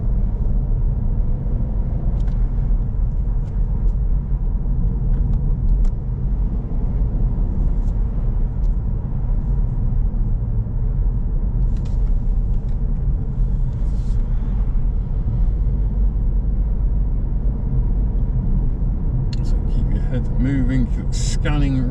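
A learner driver's car cresting a hill and shifting into fourth gear, heard from inside as a steady, loud low engine and road rumble throughout, with a brief higher whine near the end.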